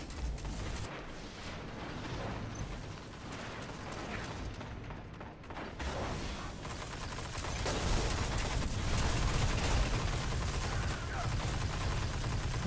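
Gunfire in a multiplayer video game battle: a dense, sustained barrage of distant and mid-range shots with rumbling blasts, building in intensity toward the end.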